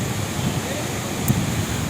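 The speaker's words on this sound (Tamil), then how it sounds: "தண்ணி எவ்வளோ பயங்கரமாக உள்ளதுங்களா?" A continuous roar of rushing water at Athirapally Waterfalls in Kerala fills the clip, a dense, steady wash of noise that stays constant from start to finish.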